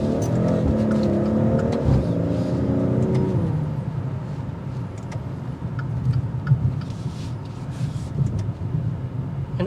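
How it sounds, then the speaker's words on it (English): A Maserati Quattroporte Modena accelerates hard, its exhaust note climbing through the revs over the first few seconds before settling into a steady, smooth cruise with a faint spit near the top. "I like the exhaust note. You get a little spit towards the end when you hit on a higher RPM."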